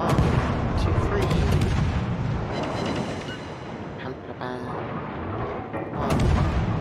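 Warship main guns firing in the naval game World of Warships, heavy booming salvos rolling over one another in a dense, continuous barrage that stays loud throughout.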